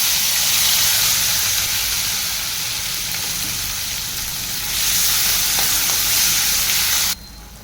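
Chopped tomato and onion sizzle loudly in hot tempering oil with crackled cumin and mustard seeds for hotel-style sambar, a steady bright frying hiss that eases briefly, swells again, then drops off near the end.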